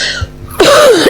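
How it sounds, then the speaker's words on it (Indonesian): A single harsh throat clear followed by a short cough, close and loud, with no talk. "saya lagi batuk karena habis makan apa kemarin ya"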